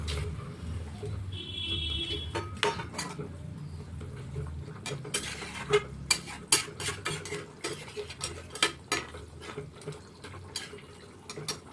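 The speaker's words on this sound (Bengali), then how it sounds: "ঝোল আমার ফুটে গেছে, এবার মাছটা ঢেলে দিয়ে দিচ্ছি।" Pieces of fish go into a yogurt fish curry already at a boil, with soft bubbling and scattered metallic clinks and scrapes of a utensil against the pot, close and fairly quiet.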